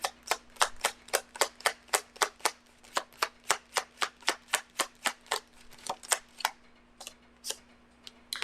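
Tarot cards are shuffled with a rapid, even run of crisp, snapping clicks, about two or three per second. The cards ring out close and clear over a low, steady hum, and the rhythm slows and thins out toward the end as cards are drawn.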